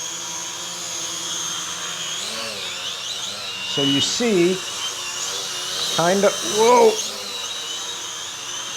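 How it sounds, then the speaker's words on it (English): A Holy Stone HS260 drone hovering and drifting, its propellers giving a steady high-pitched whine and buzz beneath someone talking close by. "it really wants to drift, and I would say that this drone is not super easy to fly"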